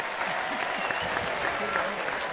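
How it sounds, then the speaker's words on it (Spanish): Applause from a small group of people breaks out over a lively indoor scene, steady and fairly close, with scattered voices mixed in under the clapping. "Un aplauso para Pepe."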